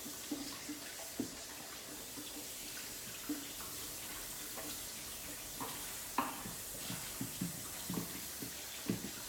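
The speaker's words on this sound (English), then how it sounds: "so I'm gonna rinse that out real quick. Clean the shoot out so that I can finish juicing with ease." Juicer chute rinsed under a running kitchen tap, faint steady water flow with scattered soft clunks and splashes as it is handled.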